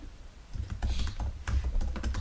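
Quick keyboard typing, clicks in uneven bursts close by, with a low hum running underneath.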